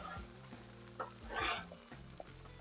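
Eggs fry on a flat-top griddle with a steady close sizzle, broken by a few scraping spatula strokes and one brief louder burst of crackling.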